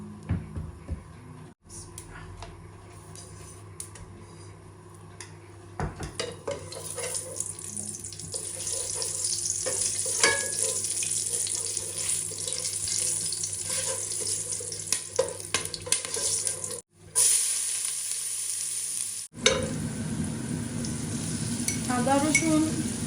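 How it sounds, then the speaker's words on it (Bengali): Whole spices roast in a hot handi pot for Sylheti akhni, a continuous soft sizzle with stirring and watery, tap-like running sounds, briefly cut by a few short gaps. "আমি আস্ত যে স্পাইস ওগুলা আমি একটু আগে দিলাম একটু রোস্ট হওয়ার লাগে"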